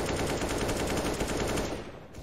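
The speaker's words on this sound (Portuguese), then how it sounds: "Realzinho consegue a recuperação, vai tentando disparos varados" Rapid bursts of automatic gunfire in a Counter-Strike: Global Offensive match rattle continuously and loudly, dense and unbroken, easing slightly near the end.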